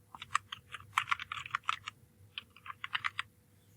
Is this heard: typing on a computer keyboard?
yes